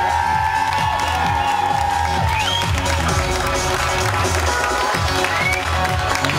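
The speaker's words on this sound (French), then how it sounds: "Je vous demanderai quand même un tonnerre d'applaudissements pour notre jury s'il vous plaît." A studio audience at a French talent-search show bursts into loud, sustained applause for the jury, with dense clapping, cheers and whoops filling the room throughout.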